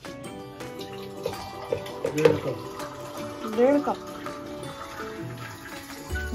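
Water running and splashing into a cooking pot under a person speaking, with faint clinks of kitchenware, while making pav bhaji.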